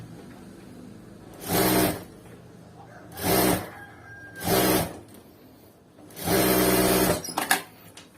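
A sewing machine stitches piping onto a blouse in four separate runs of rapid mechanical whirring, each lasting about a second, with the last one longer, separated by quiet pauses.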